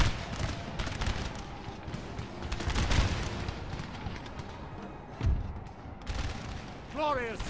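Musket volleys crackle in a Napoleon: Total War battle, with dense overlapping gunfire and booming thuds building and fading under game noise, and a brief whistling sound near the end.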